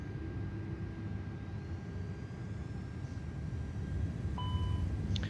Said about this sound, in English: Let's do a takeoff. Parking brake off, toga.